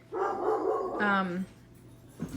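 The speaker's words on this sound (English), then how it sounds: "sorry, my dog" A dog barks in a nearby room, a few sharp, close yelps and yips, with a voice briefly heard near the end.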